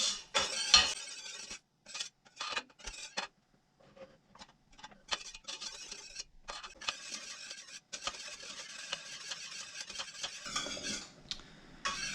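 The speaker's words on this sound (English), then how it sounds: "So we're going to continue to whisk this and bring it up to a boil." A whisk scrapes and clinks rapidly against a pot of gravy on the stove, bursts of metallic stirring broken by short pauses, close and clear with no voices.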